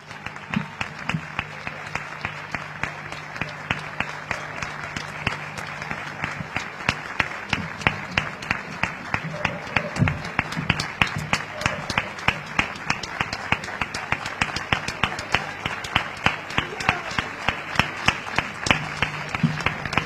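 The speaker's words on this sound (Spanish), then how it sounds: "Un fortísimo aplauso." Audience at a flamenco singing contest in Prado del Rey claps steadily for about twenty seconds, a moderate, even patter of applause that swells slightly midway, with faint voices underneath.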